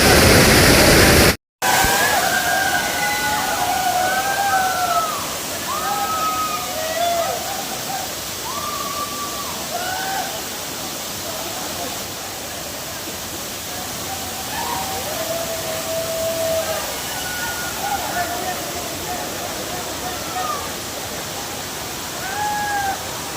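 Sarugudu waterfall in Anakapalli district sends water crashing down and spraying nearby, a broad, constant roar broken by one very brief dropout near the start, with some faint squeaky calls over the rush.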